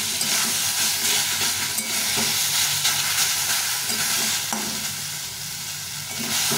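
Fried eggplant and boiled potato are mashed and stirred together in a hot pan, a loud continuous sizzle and hiss with scraping, pressing strokes, close up and with no voices.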